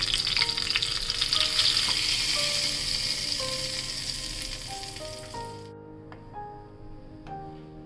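Hot tempering of cumin seeds and green chilli in oil for a chutney, a loud dense sizzle close by that gradually softens and cuts off near the end, with scattered sharp clicks and taps.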